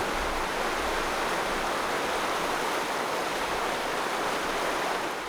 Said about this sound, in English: These are the headwaters of the great Metolious River.